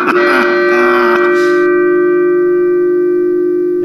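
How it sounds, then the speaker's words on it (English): A loud, close electronic Halloween prop bell strike rings out with steady sustained tones that slowly fade, some brief clatter at the start. "the sound of the bell is just ending"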